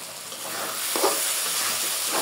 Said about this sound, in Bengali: মশলার সাথে 2 মিনিটের জন্য একটু ভেজে নেব ডালটা